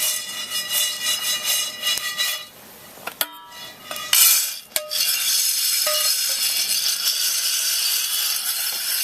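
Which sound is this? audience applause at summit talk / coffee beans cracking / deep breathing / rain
coffee beans cracking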